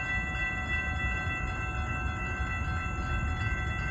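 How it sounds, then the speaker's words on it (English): A Brightline train on the Orlando to Miami service rolls past at Dania Beach, Florida, as a loud, steady rumble with sustained tonal hum and whine, continuous throughout and free of speech. "It's Brightline from Orlando to Miami."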